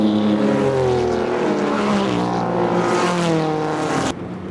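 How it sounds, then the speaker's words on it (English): Porsche 914 race cars on a pace lap at Roebling Road cross the start-finish line in a pack, a loud overlapping drone of engines with shifting pitches as the cars pass close by. "this is the pace lap of the all Porsche 914 race. The cars come across the line, led by the Brumos Porsche pace car."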